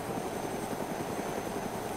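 A helicopter in the video game DayZ climbs while levelling out, its rotor giving a steady, continuous thumping drone with a rhythmic low chop throughout, no voices over it.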